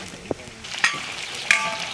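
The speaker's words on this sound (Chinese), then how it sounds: "肥肉上的油煸出来了，下入葱姜蒜、干辣椒、" Pork fat sizzles in a hot wok as scallion, ginger, garlic and dried chili go in, a close crackling fry with a few sharp spatters over two seconds.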